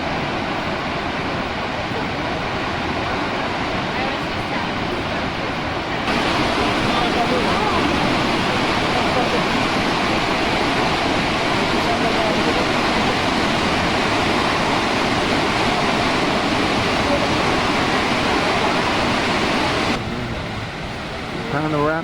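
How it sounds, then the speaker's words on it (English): A South African waterfall roars in a dense, continuous rush of falling water, loud and unbroken throughout, surging a little stronger midway before easing near the end. "Panoramic of this waterfall as it goes across"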